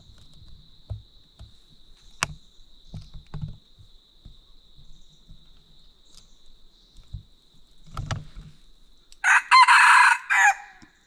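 After a quiet stretch with a faint insect hum and a few soft knocks, a rooster crows loudly once near the end.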